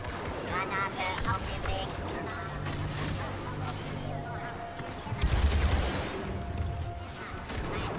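Blaster gunfire in the Star Wars Battlefront 2 multiplayer battle on Kashyyyk, rapid volleys and bursts layered with explosions and game effects, a louder crash near the middle, while a player talks throughout.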